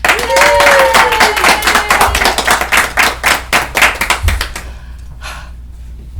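A small bookstore audience claps to welcome an author to a reading, loud and close, with a brief voice at the start before the clapping thins out and stops.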